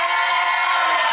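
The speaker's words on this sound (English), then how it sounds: "Why don't we give Chase another round of applause?" An audience cheers and whoops loudly in one sustained burst of crowd noise, with no clear clapping standing out.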